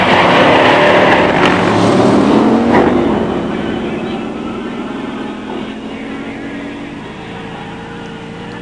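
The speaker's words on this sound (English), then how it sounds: "In the near lane, John Cherry, 68 Charger, HEMI 4-speed." Two 1968 muscle cars, a HEMI four-speed Charger and a HEMI automatic Roadrunner, launch and drag race side by side, their loud roaring engines peaking early and then fading steadily as they pull away down the strip.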